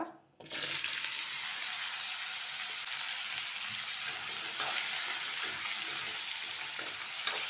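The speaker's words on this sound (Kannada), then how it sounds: "ಇದು ಈ ಆಯಿಲಲ್ಲಿ ಚೆನ್ನಾಗಿ ಫ್ರೈ ಆಗಬೇಕು ಫ್ರೆಂಡ್ಸ್." Sliced pumpkin hits hot oil and settles into a loud, continuous sizzle and crackle close by, starting abruptly after a brief quiet moment.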